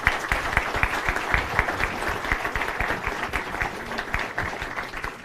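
Warm applause from an audience at a book presentation in the Mexican Senate: dense, steady clapping from many hands that holds at an even level throughout, with no talk over it.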